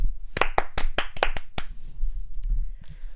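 A single pair of hands claps about nine times in an uneven burst of sharp, close, loud claps, then stops, with no talk over them.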